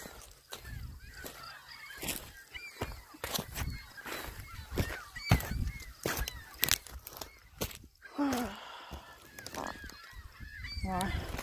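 Geese in a flock honk loudly and constantly outdoors, with overlapping calls that rise into a nearer burst of honking near the end.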